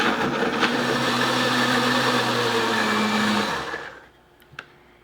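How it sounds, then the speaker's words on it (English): A kitchen blender whirs loudly, blending a vanilla milkshake for about three and a half seconds before spinning down, followed by near silence and a faint clink. "I just put this in my blender here."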